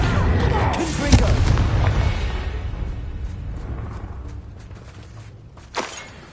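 A Confringo spell explodes in Hogwarts Legacy with a heavy boom near the start that rolls into a long fading rumble, ending with a short sharp crack.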